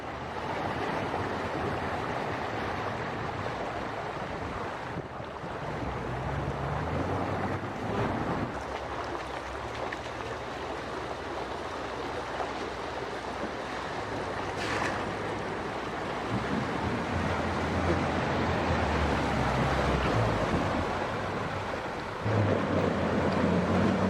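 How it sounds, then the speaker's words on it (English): A Jeep on an overland trip fords a fairly deep river, water rushing and splashing in a broad, steady wash with wind buffeting the microphone and a few louder surges. "we eventually dropped back down to the river and were embarking on our final river crossing for the day"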